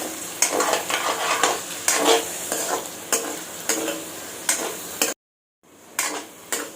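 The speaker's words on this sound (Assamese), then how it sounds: "এতিয়া 1 মিনিটমান মই পিঁয়াজখিনি ভাজি ল'লোঁ।" Onions with green chillies fry in a pan, a loud continuous sizzle broken by repeated scraping stirs, with a brief silent gap near the end.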